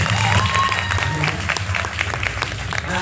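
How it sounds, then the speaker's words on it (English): An audience on a cruise ship applauds steadily for about three seconds, a dense wash of clapping filling the room, with a few cheers and murmurs mixed in. "Give her a little round of applause for that."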